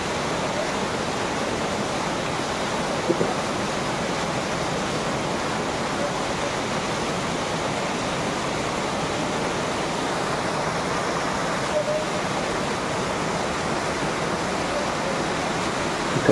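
Waterfall at Khandala in Adilabad, Telangana, heard up close as a steady, loud broadband rush of falling water that stays constant throughout with no pauses.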